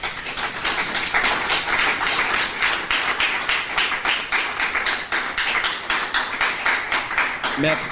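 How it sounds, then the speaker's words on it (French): An audience at a French-language book launch event applauds in a dense, steady wash of clapping that runs the whole time, with a voice briefly breaking in near the end. "je voulais vous dire sincèrement d'applaudir pour lui"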